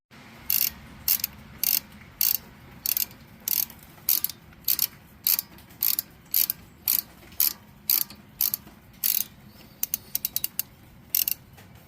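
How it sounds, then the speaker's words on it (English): A hex Allen wrench loosens the brake caliper bolts on a 2016 Ford Escape, giving a close, loud series of rapid ratcheting clicks in regular bursts throughout, with no talk. "get those two bolts loosened and get them slid out"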